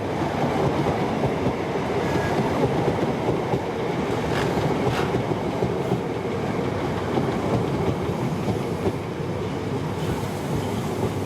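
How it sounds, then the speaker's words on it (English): A British Rail HST high-speed diesel train pulls away from London Euston on a Holyhead service, a steady, loud rumble of engine and rolling wheels with faint rail clatter throughout. "An HST departs Euston on a Holyhead service."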